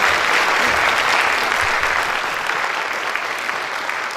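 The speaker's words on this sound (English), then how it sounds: "Let's give them both a round of applause." An audience at a county chamber of commerce election forum applauds the candidates, steady full applause throughout with no talking, slowly easing in volume.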